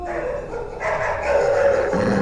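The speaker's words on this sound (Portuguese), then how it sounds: "E os cães ficaram ainda mais bravos." Dogs bark agitatedly in a dense, overlapping cluster of yips and barks at night, loud and continuous with no voices over it.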